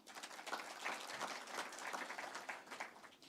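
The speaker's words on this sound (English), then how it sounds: "I wish that you give yourselves a clap." Scattered audience clapping at a corporate event for an energy company in Kenya, fairly faint and distant, irregular claps swelling and fading over a few seconds with no speech.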